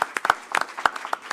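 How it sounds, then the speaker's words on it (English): Scattered hand claps from a small audience at a library board meeting, a brief, sparse round of applause. "I believe that's worth a hand clap, Mr. Allen, for doing a great job"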